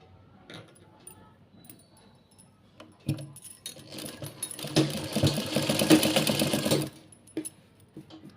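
A sewing machine stitches pleats onto a sharara, running in a steady, loud whirring burst of about two seconds after scattered handling clicks, then stopping abruptly.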